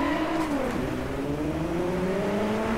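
Racing car engine in DriveClub on PS4 accelerates with a steady, loud rising whine and gear-linked pitch sweeps, sustained close throughout with no talk.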